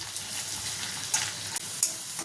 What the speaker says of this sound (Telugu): దాంట్లోకి అన్నం పెడుతున్నా, అన్నం ఉడికిపోతుంది. అలాగే ఆలుగడ్డ ఫ్రై అవుతుంది.